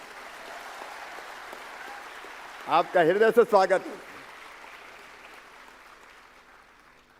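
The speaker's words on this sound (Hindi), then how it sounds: "और तालियां जरा मध्य प्रदेश वाली वजन थोड़ी।" Crowd applause at a public event in Madhya Pradesh where the Chief Minister speaks, marking the Vice President's arrival in Jabalpur: a steady, distant patter of clapping throughout, with someone briefly speaking over it.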